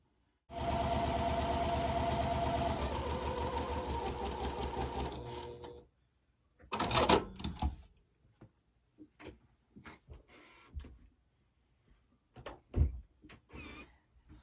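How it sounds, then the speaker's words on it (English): A sewing machine runs in one continuous five-second burst while stitching quilt blocks, then stops. Several scattered clunks and knocks follow as the fabric is handled nearby. "So I'm going to go ahead and sew these blocks up"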